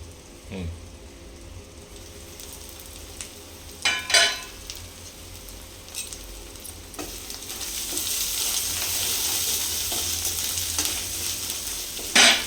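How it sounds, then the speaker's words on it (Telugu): Ginger garlic paste sizzles in a pan while taro curry cooks, a steady frying hiss with occasional stirring scrapes that swells louder and brighter toward the end. "ఇప్పుడు అల్లం వెల్లుల్లి పేస్ట్ వేసుకుందామండి."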